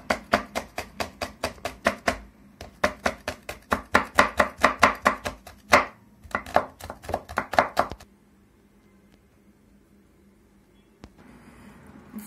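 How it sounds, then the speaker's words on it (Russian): A knife chops bell pepper into thin strips on a cutting board, rapid sharp taps in quick bursts for about eight seconds, then the chopping stops and only faint room tone remains. "Такой мелкой соломкой нарежу."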